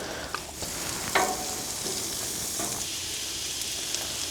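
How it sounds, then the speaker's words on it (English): Onions and bell peppers sauteing in a cast iron pan over a campfire: a steady, moderately loud sizzle and hiss runs throughout, broken by occasional stirring scrapes and small pops. "we're gonna saute some onions and bell peppers"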